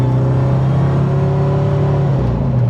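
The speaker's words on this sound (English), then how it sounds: "Hold on, blower whine." A supercharged 1997-2003 Ford F150 Lightning truck drives with a steady tonal blower whine over a low engine rumble, heard from inside the cab, close and continuous with no talking.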